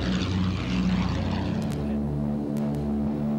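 A pre-war de Havilland biplane flies with a steady, loud propeller-engine drone that stays even and continuous throughout, with no voices over it.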